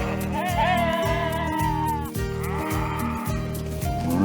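Hardy-breed sheep grazing in the harsh Ardennes bleat loudly and close, long wavering cries repeating over a steady rhythmic pulsing background music.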